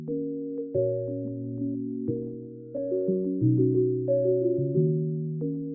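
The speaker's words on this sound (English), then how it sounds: "So I'm using SKY keys for the melody" Mellow synthesizer keys play a slow melody of layered chords, each sustained note changing every second or so, clean and close with no voices.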